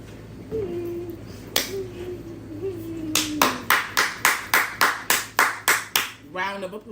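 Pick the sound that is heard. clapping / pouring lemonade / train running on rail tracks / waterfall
clapping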